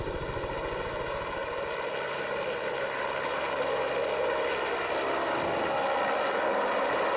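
A helicopter flies close by in the Swiss Alps, ferrying concrete blocks to a mountain landing site for rockfall tests. Its rotor beats and turbine whine stay loud and steady throughout, with no talk.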